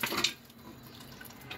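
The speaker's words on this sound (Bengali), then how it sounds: "এই পাত্রে ঢেলে দিচ্ছি।" Boiled food, cooked for beef nihari, is poured into a pot with a soft, brief wet splash and dribble, quiet and close, fading to low background.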